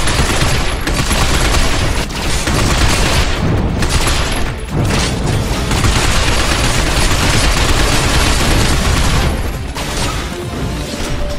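Heavy, sustained gunfire in the shooter game Binary Domain, loud rapid bursts and booms packed tightly together with only brief dips, filling the whole stretch without speech.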